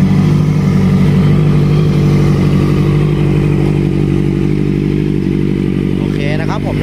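A Honda CBR650F sport motorcycle idles close by, a loud, steady, deep engine drone with a constant rumbling pulse that holds throughout, with a light clatter near the end.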